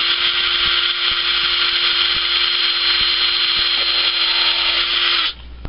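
A power drill fitted with a drill bit, pushed against plastic, whines loudly and steadily for about five seconds before cutting off abruptly.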